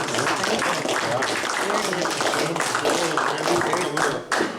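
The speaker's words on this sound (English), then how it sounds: "let's hear a round of applause for that" A crowd at a model railroad clinic claps steadily throughout, a dense, sustained round of applause that fills the space without pause.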